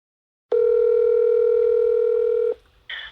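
An outgoing telephone call gives a loud, steady electronic tone lasting about two seconds, then drops off before a brief higher tone starts.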